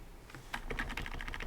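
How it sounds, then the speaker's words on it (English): Rapid keystrokes on a computer keyboard clatter up close in a quick, even rhythm, a steady run of crisp clicks over faint background noise with no talking. "I'll just type that one out myself."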